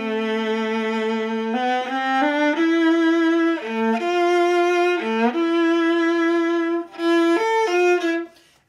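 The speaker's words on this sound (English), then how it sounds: "If I play with a harder finger action in my left hand," A solo viola plays a phrase from Schubert's Arpeggione Sonata with hard left-hand finger action, clear sustained bowed notes moving stepwise in a close, prominent melodic line, with a couple of brief breaks between phrases.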